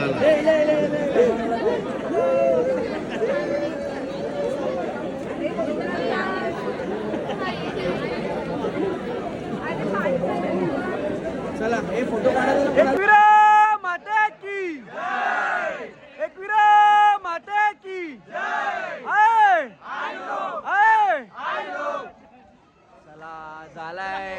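A festive crowd at a palkhi procession in a village fills the first half with loud, dense chatter and shouting, then gives way to a single close voice with sharp bursts of crowd noise behind it.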